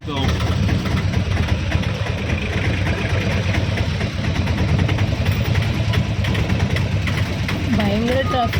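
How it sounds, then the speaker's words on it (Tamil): Car engines idle in heavy road traffic as a dense, continuous low rumble, with a voice speaking near the end. "பயங்கர டிராஃபிக்."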